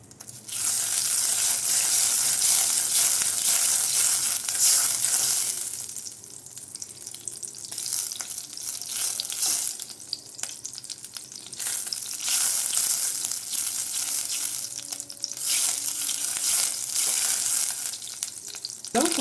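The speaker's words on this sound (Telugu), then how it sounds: "నేను ఒక 3 స్పూన్స్ బటర్ అయితే వేసుకుంటున్నాను. ఇందులో బటర్ అంతా కూడా మెల్ట్ అవ్వాలన్నమాట." Three spoons of butter melting in a kadai over a gas flame, with a bright, steady hiss and sizzle that swells and fades in waves, loud and close, with occasional light clatter.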